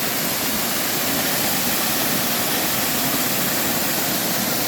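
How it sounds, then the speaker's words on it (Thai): Dense, steady roar of a waterfall at Thamsawan Falls, broadband rushing water filling the whole clip at constant loudness, close and continuous with no voices. "นี่นะคะน้ำตกนะคะ"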